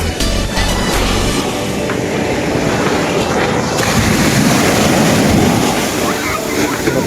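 Strong ocean waves roll and crash in a loud, continuous roar with heavy wind buffeting the microphone throughout.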